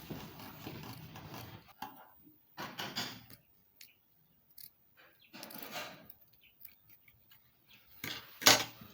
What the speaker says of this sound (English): with your pair of scissors.